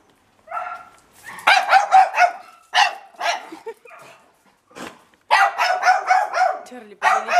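A dog barks in quick repeated bursts, sharp and close, at cats up above, with short pauses between volleys of rapid yaps.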